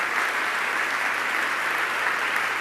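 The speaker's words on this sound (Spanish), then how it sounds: "Da un aplauso al Rey de Reyes y Señor de Señores" Dense, even applause from an audience, a steady unbroken roar of many hands clapping together, loud and without talk.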